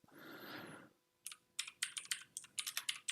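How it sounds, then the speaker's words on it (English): Quick clicks from a computer keyboard come in uneven bursts close to the mic after a brief breathy rustle, with no talking over them. "while you listen to me clicking on my keyboard."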